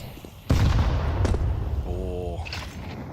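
A grenade explosion and gunfire ring out in a Counter-Strike professional match at ESL Pro League: a sudden loud blast, then a rattle of shots and game noise that continue at a fairly steady level.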